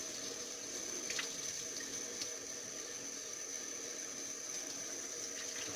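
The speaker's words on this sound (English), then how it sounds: "we're going to go to the sink and get about a cup of warm water again" Warm water runs steadily from a kitchen sink tap into a measuring cup, a continuous close hiss and splash with no talking.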